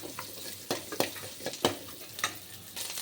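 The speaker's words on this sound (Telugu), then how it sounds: "కొద్దిగా కరివేపాకు వేసుకొని వేయించుకోవాలి." Curry leaves fry in hot oil in a pan for a radish chutney, a soft steady sizzle broken by a series of sharp clicks and scrapes from stirring, close and fairly quiet with no voices.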